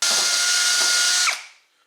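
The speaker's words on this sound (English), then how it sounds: "drill the hole through here, through the epoxy, and into the chamber" A power drill bores a hole through epoxy into the steam chamber of a wood-flattening steam box, giving a loud, steady high-pitched whine for just over a second before winding down and stopping.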